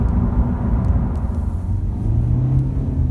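2017 Honda Civic SE Plus diesel driving on the road, a loud steady low engine and road rumble heard from inside the cabin, with a slight rise in pitch as it accelerates and no talking.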